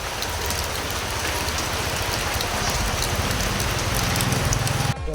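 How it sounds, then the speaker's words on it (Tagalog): Heavy rain pours steadily and loudly onto surfaces nearby, a dense unbroken hiss that holds for several seconds before cutting off abruptly near the end, with no voices present. "Grabe yung ulan dito mga idol sa amin"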